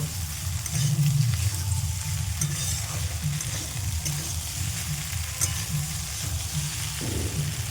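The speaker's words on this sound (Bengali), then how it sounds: "এবারে সিদ্ধ করা পাস্তাগুলো দিয়ে দেবো। দিয়ে ভালোভাবে নাড়িয়ে চাড়িয়ে নেব" Boiled pasta with vegetables is stirred in a frying pan, giving a steady close sizzle with a rhythmic low scraping and shuffling of the spoon through the food; nobody talks.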